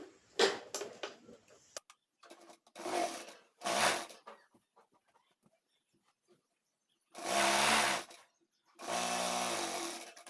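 A sewing machine stitches a salwar in several short bursts of loud, steady whirring, separated by quiet pauses with faint handling sounds.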